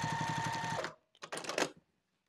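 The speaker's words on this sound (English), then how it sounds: "and then sew it closed." Sewing machine stitching fabric binding closed on a sling bag, a fast rhythmic mechanical chatter for under a second, then a few soft clicks and rustles before silence, close and clear.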